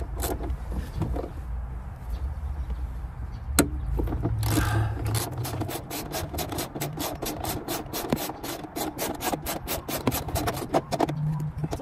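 A tool working 12 mm seat bolts loose inside an Infiniti Q60 Red Sport: close, rapid ratcheting clicks over scraping and rubbing, turning into a steady run of sharp ticks.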